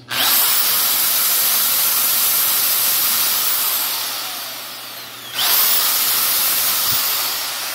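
A 680-watt electric drill whirs steadily at high speed with no load, dipping briefly in pitch before spinning back up, running alone without voices.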